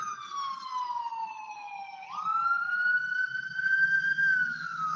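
A wailing ambulance or fire truck siren on a city street sweeps down in pitch, jumps back up and holds a long rising tone, sounding fairly close over faint background rumble.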